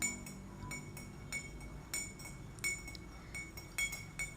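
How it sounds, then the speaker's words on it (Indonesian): A spoon stirs half a glass of water slowly, tapping the glass in a string of light, bright clinks that come at a steady, unhurried pace. The clinks are close and quiet, with no one talking. "Telah tersedia sebuah sendok dan satu gelas yang berisi setengah air. Kemudian diaduk secara perlahan-lahan"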